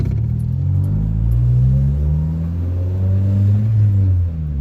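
A 2019 Camaro SS with its secondary catalytic converters deleted, heard from inside while driving: a loud, deep V8 rumble that rises and falls in pitch as the car accelerates through the gears, with no talking.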